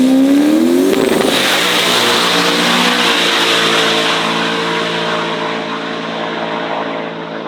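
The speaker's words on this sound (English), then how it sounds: "the guy that has the Toyota UZ V8 with a massive turbo strap to it" A Toyota UZ V8 drag car with a large turbo launches in Thailand. A rising whine leads into a loud, sustained engine roar that stays close and powerful before easing slightly toward the end.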